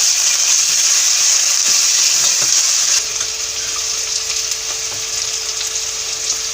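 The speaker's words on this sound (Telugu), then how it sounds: "ఇప్పుడు మనం బీన్స్ ఉన్నాయి కదా, బీన్స్ కూడా వేసి వేయించుకోవాలి." Green beans fry with ginger garlic paste in a pan, giving a loud, continuous bright sizzle with a few faint stirring clicks; the sizzle drops slightly partway through.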